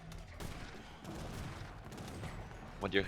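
Case shot artillery fires in a strategy video game battle as a faint, dense rattling volley, with a commentator talking over it.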